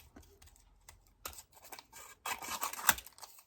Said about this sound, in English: just move your paper rather than the scissors, and you'll find that it's really easy to fussy cut